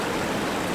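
Floodwater from heavy rain near Upleta in Rajkot district rushes steadily as a broad, continuous flow from a long stream off Osam hill, heard briefly and evenly with no voices.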